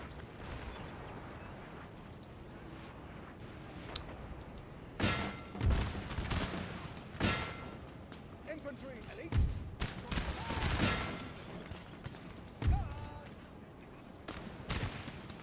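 Musket volleys in a Napoleonic-era battle game, several distant booming bursts of fire at irregular intervals over a low rumbling battlefield din, with someone talking throughout.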